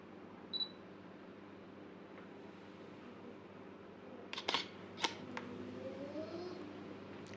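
DSLR camera fitted with a 55-250mm lens fires its shutter, a cluster of sharp mechanical clicks around the middle of the clip plus an earlier faint tick, close and alone over a quiet room hum.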